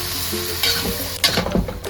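Baby squid sizzling in a hot frying pan for fried rice, stirred with a utensil that scrapes and clacks against the pan in a few sharp strokes over a steady, close frying hiss.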